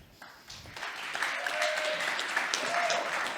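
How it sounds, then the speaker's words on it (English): Audience applause after a founder's pitch presentation at a startup competition semi-final, a steady wash of many hands clapping that rises and holds at moderate level for several seconds. "Applause, well deserved."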